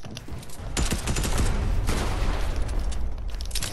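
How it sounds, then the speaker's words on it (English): Rapid bursts of automatic gunfire crackle and pop in a fast online shooter match, dense repeated shots layered with distant booms and steady game noise throughout. "Who tried to shoot me?"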